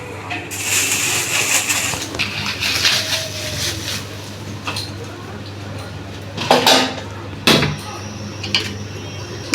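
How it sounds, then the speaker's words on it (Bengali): Metal utensil clinking and scraping against a pot of jaggery on a stove, with intermittent clatter and a few louder knocks over a steady low hum. "এখন আমি বলক আসা পর্যন্ত নাড়াচাড়াটা করব।"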